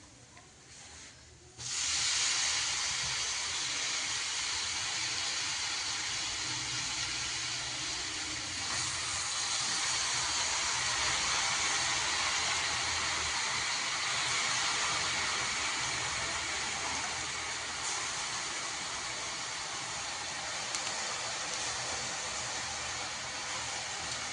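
Washed spinach hits a hot pan over roasted ground masala paste for a dry palak dish, setting off a loud, steady broadband sizzle that starts abruptly and holds for over twenty seconds with no talk.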